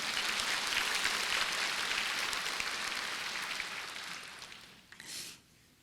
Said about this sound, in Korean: 옆에 보면 축복과 박수 한번 부탁드리겠습니다.